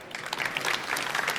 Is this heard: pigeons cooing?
no